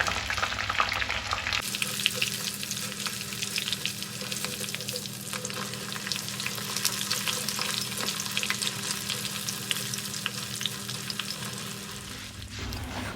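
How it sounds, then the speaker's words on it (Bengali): Stale leftover rice frying in a pan and turned with a spatula, a steady close sizzle with light scraping throughout, no voices. "আর এই যে শব্দ হচ্ছে, এই শব্দ শুনেই আপনারা বুঝতে পারছেন নিশ্চয়ই যে এই বাসি ভাতগুলো ভাজার পর"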